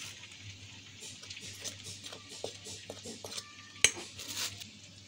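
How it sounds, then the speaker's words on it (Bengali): Shola kochu fritter batter with turmeric and chilli powder being mixed in a bowl, giving soft, irregular clinks and scrapes of a utensil against the dish, with one sharper knock near the end, all fairly quiet and close. "এবার আমরা ব্যাটারটাকে ভালো করে মিক্স করে নেব।"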